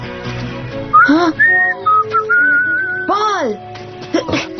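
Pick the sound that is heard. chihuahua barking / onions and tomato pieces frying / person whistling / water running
person whistling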